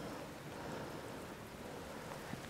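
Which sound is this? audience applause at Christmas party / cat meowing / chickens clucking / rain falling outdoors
rain falling outdoors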